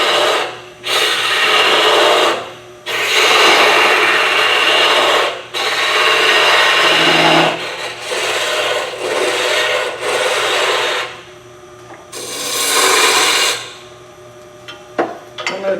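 A woodturning gouge cuts wood spinning on a lathe, making loud, close, rasping scrapes in repeated passes of a few seconds each, separated by brief gaps where the tool lifts away.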